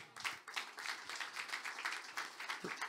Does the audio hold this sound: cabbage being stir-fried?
no